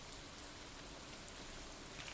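Steady soft rainfall in the Stardew Valley video game, a faint, even patter on a surface that runs unbroken with no talking over it.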